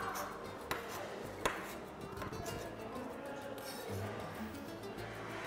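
Knife chopping cucumber on a board, a couple of sharp taps standing out amid soft kitchen clatter and low background noise.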